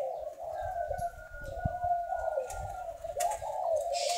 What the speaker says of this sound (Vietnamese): Các bạn có thể nghe thấy tiếng chim kia